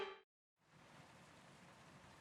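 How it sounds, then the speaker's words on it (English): Steady rain falls in the racing game F1 22 at Imola, a soft, even hiss of water that starts after a brief silence and holds at a faint, constant level. "It's raining a lot, by the way."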